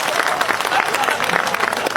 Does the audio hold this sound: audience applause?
yes